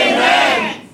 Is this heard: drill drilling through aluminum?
no